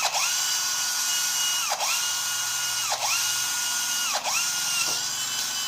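A power drill bores bolt holes through steel for a scrap-metal wrought iron grille, a loud sustained whine that dips and recovers in pitch several times as the bit bites, close and alone.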